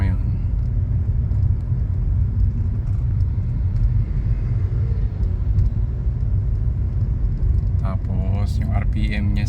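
A Kia Rio engine idles with a low, steady rumble after a transmission fault caused RPM drops, close and continuous, with someone speaking briefly near the end.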